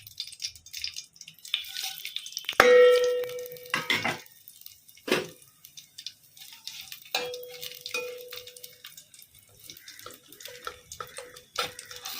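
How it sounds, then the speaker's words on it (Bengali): Bay leaf, dried chilli, cumin and fennel are dropped into hot oil in a wok for a tempering, with a sharp burst of sizzle and clatter early on, then intermittent crackles and spoon scrapes fading in between. "তেজপাতা শুকনো লঙ্কা জিরে মৌরি এগুলো যে ফোড়নে দেখালাম সেইগুলো আস্তে আস্তে কড়াইয়ের মধ্যে"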